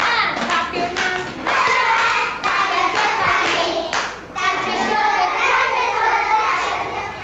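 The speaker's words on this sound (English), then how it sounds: "Turn around. Touch the ground. Stand up tall. And clap your hands." Children clap their hands in bursts of quick, rhythmic claps during a classroom motion song, close and fairly loud, with brief pauses between the rounds.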